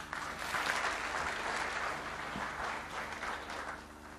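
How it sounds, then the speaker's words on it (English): An audience at a talk applauds the speaker, Prahlad Kakkar, with steady, dense clapping that holds strong for a few seconds and then eases slightly near the end. "can we have a huge round of applause one more time for the one and only Mr. Prahlad Kakkar"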